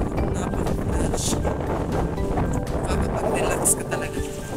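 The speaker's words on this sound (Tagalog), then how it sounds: "Kaya napakalakas ng hangin." Strong wind buffets the microphone outdoors at a tree-lined waterside spot with boats, producing a continuous low rumbling roar with gusty swells and faint background activity.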